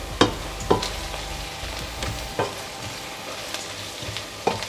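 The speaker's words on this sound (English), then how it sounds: "So we'll give this a good stir now" Spices, masala and salt stirred together in a pot over low heat for lentil curry, with several sharp scraping strokes of the spoon over a steady low sizzle, close and fairly loud, no talking.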